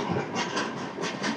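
A train near Rayagada passes close by with a loud, continuous rumble and rhythmic clattering of wheels on the rails.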